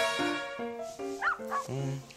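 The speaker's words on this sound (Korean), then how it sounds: "여기도 댕댕이, 저기도 댕댕이, 저기도 댕댕이" Several dogs at a dog cafe play space yip and bark in short, bright, high-pitched bursts. A whine or two mixes in over about two seconds, close by and moderately loud.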